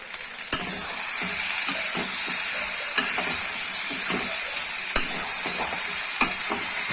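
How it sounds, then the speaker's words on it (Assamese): Pork and potatoes sizzling in a hot pan, a steady frying hiss broken by occasional sharp scrapes and knocks of a spoon stirring, no voices. "এই আলুখিনি দি পেলাই এতিয়া অলপ দেৰি মাংসখিনি ভাজিব লাগিব।"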